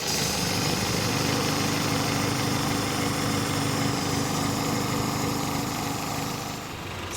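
Steady mechanical running of a Honda CR-V engine with a wobbling harmonic balancer, a continuous droning hum with rattly vibration, close and even throughout, easing slightly at the end.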